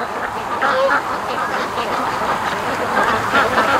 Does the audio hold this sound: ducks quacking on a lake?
yes